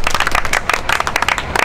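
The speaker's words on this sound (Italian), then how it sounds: "Un applauso per la battle," An audience at a rap battle contest in Bologna applauds with a dense, lively burst of clapping that carries on for under two seconds without pause.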